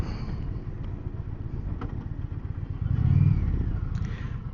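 An Indian Challenger motorcycle engine rumbles steadily while the bike rides through its gears, a continuous low drone with a brief swell in revs near the end and wind noise around it.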